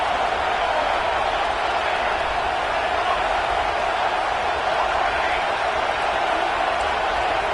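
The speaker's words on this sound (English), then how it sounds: "the crowd coming to life here, trying to help this defense down in the red zone." A football stadium crowd roars for the home defense in the red zone during an exhibition game, a steady, dense wall of cheering and noise that holds without a break from start to finish.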